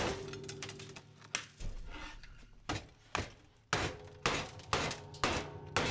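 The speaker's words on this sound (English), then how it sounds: "this hammer with the wedge head" A wedge-head hammer strikes lighting ballasts being broken down for scrap copper, loud metallic clangs landing one after another, spaced out at first and then falling into a quicker, steady rhythm.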